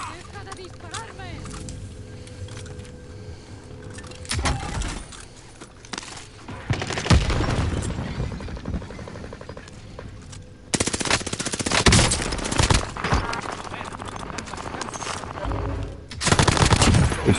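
Gunfire in the Warzone video game: sustained bursts of automatic weapon fire, loud and near, with brief pauses between volleys, while players talk over the shooting.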